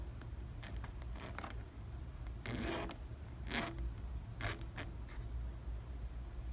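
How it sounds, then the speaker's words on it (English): A small metal part is rubbed back and forth across a hand file in a workshop, producing faint, intermittent rasping strokes with short pauses between them, quiet overall. "you just want to just run it back and forth on the file"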